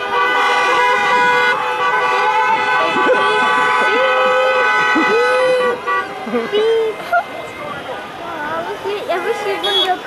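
Car horns blare in a jammed UK traffic queue: a long sustained horn blast dominates, followed by shorter overlapping toots, loud and close, with people talking underneath.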